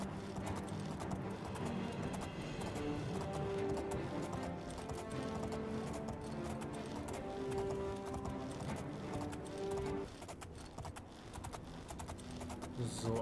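Hooves of a horse in The Elder Scrolls IV: Oblivion clip-clop in a steady rhythm over a background of game music, with a brief whinny-like tone partway through.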